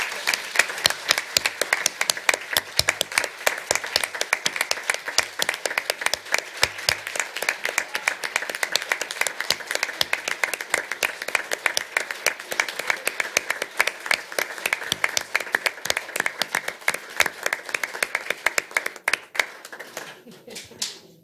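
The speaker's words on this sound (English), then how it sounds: "you deserve a big round of applause" A sustained round of applause from the audience at a city council meeting, dense steady clapping from many hands lasting about twenty seconds before tapering off at the end, with faint voices mixed in.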